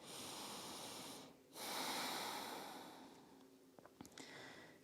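Slow, deep breathing through the nose during a yoga stretch, one long loud inhale then a pause, followed by a long exhale fading out, close and alone.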